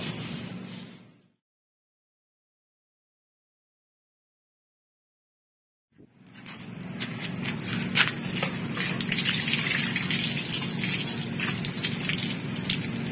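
Water splashes and gushes over rust-cleaned motorcycle handlebars, a steady close spray of rushing water that follows a few seconds of silence.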